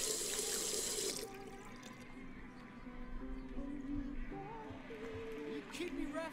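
Tap water runs into a sink in the game Captain Spirit, a steady close rush that starts loud and then continues a little softer, with faint voices talking over it.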